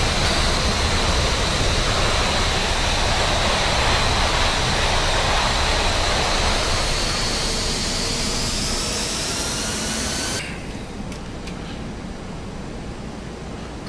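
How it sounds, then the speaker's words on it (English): Steady roaring airport ambience from a Lufthansa A319 in Prepar3D v4.5 at Frankfurt at night, loud broadband jet-like rush that swells, then drops abruptly to a quieter hum near the end, with no voices. "And that airport background."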